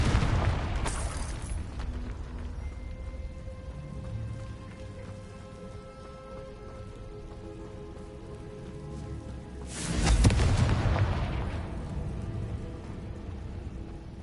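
A Confringo blast spell erupts in Hogwarts Legacy, two heavy booming bursts about nine seconds apart, the second louder and closer, with a low rumbling game backdrop between them.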